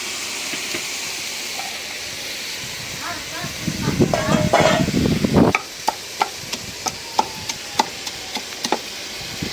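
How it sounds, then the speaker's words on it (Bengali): Spice paste being sautéed in a pan, a steady background sizzle and hiss that swells with stirring mid-way, followed by a series of sharp, evenly spaced taps, likely garlic being pounded, with a voice in the background. "মশলাটা কষানো হইতেছে"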